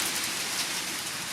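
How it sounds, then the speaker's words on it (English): Hail storm pounding down outside during heavy weather, a dense, steady roar of impacts on surfaces that stays loud and unbroken throughout. "I think it's hailing out there."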